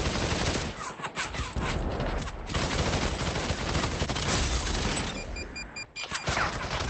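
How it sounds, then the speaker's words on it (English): Sustained gunfire from multiple weapons in the battle royale game Population: One, including UMP fire, dense and continuous bursts throughout with a brief lull near the end. "Who's firing at me?"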